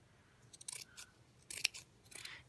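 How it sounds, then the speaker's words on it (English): Scissors cutting the edge off a piece of burlap fabric, three short snipping bursts of crisp shearing, close but fairly quiet, with no voices. "we are going to cut just this edge off over"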